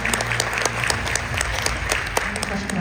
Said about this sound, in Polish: Prosimy o brawa dla niego